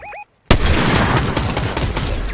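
Dense, loud burst of rapid gunfire in Fortnite, cracking continuously for about two seconds right after a short pair of rising electronic beeps.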